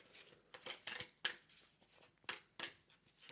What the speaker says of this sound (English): Shuffle up this stack.